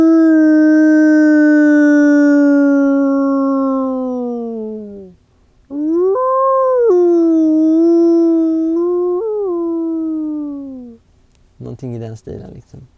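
Wild wolves howl not far off shortly after dawn, long drawn-out wavering howls rising and falling in two clear sustained calls, loud and alone, followed by a few shorter rough yelps at the end.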